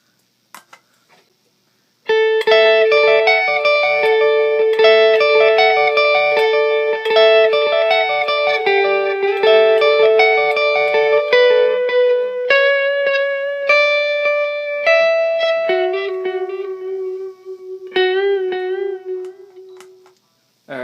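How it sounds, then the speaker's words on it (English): Clean electric guitar playing chords and single notes through a dotted-eighth delay, each repeated in echoing dotted-rhythm trails with a wash of reverb, ending in a sparser melodic phrase. "I have an eighth reverb, which is good for songs in 6/8"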